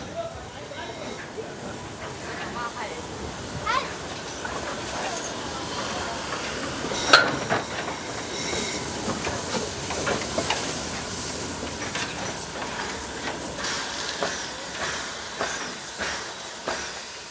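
Steam locomotive 239 works a train on the Brocken railway, heard as a steady hiss and rumble with intermittent chuffs and clanks, moderately distant and fairly quiet throughout.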